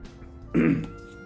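A man coughs and clears his throat once after smoking an inexpensive Partagas Cortado cigar, a short rough burst of moderate loudness against a quiet background.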